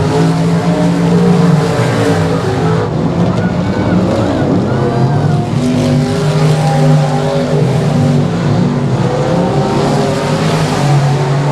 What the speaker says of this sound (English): BJ Moore's car is working fairly well up there